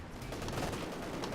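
Massed small-arms and machine-gun fire in the Company of Heroes 2 strategy game, a dense, continuous crackle of overlapping shots at moderate distance.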